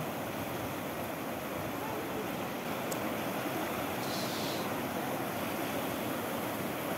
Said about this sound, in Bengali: এখন জলের স্রোত একটু বেড়ে গেছে